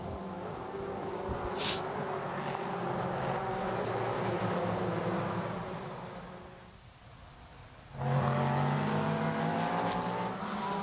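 Race cars at the 12 Hours of Sebring 2023 with a Cadillac leading at the green flag, engines roaring and droning steadily, fading briefly before a loud car passes close.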